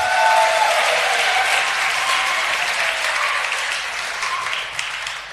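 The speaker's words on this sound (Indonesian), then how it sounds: "Tepuk tangan semuanya" A crowd at an Islamic study gathering bursts into loud, dense applause that holds steady and then eases slightly toward the end.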